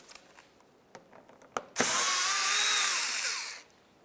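A power drill spins out T25 screws holding the front driver-side inner fender liner on a 2012-2014 Volkswagen Jetta: a loud, steady whirring burst of about two seconds that winds down, preceded by a few faint clicks.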